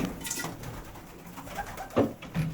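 Several pigeons coo nearby in low, throaty bursts, the louder calls coming near the end amid soft background rustling and no talk.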